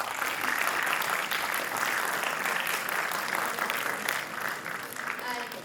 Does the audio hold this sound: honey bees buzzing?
no